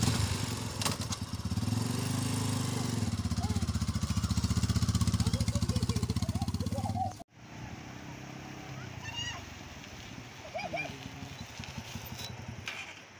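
A motorcycle engine idles nearby near a river, a loud, steady throb for about seven seconds that cuts off abruptly, leaving quieter outdoor ambience with faint bird calls and some talking.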